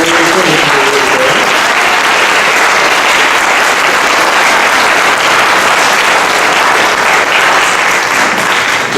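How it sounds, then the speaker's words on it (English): Loud, sustained applause from a large graduation audience fills the hall, dense and continuous with no break. "give a round of applause to all of the parents and families and friends who are here today"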